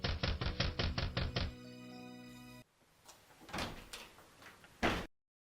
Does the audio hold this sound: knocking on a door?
yes